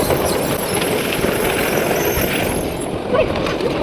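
A miniature railway train runs along its track at Burnaby Central Railway, a steady rumbling, clattering rhythm heard close from aboard the ride, with brief talk mixed in.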